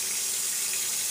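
Water from a tap runs steadily into a sink while hands are rinsed under it, a continuous close splashing rush with no voices.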